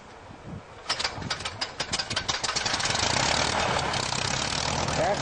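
Small airplane engine at Brodhead Airport in Wisconsin coughing through a few uneven firing pulses before catching and settling into a loud, steady close roar.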